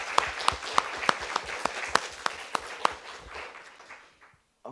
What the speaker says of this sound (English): we really should clap again for Rainer for putting together such a great